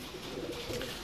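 A pigeon cooing softly, a short low murmuring coo at moderate distance against quiet background noise.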